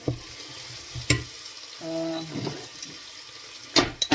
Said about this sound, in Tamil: சாம்பாருக்கு வெங்காயம் வதக்கி கொண்டிருக்கேன்